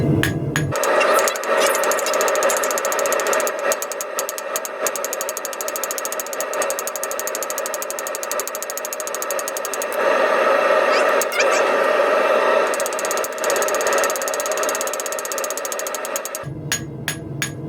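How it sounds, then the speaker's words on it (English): Rapid, steady blows from a 500 gram hammer ring out on hot steel cut from gas pipe, a continuous metallic pounding with a bright clang that stops near the end. "Switch now to a 500 gram hammer."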